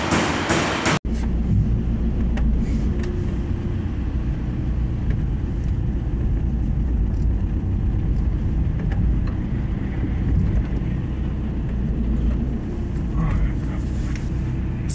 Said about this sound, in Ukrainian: Все, машина готова. Далі виїжджаємо.